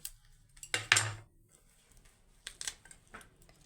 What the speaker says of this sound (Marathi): आता ह्या कारल्याला आपल्याला मधून कट करून घ्यायचं आहे